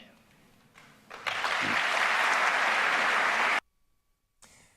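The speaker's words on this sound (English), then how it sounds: "I love those applause breaks that aren't really warranted." Applause break during a Paul Ryan speech as Speaker of the House: a loud, dense burst of clapping swells after a second, holds steady for about two and a half seconds, then cuts off abruptly into silence.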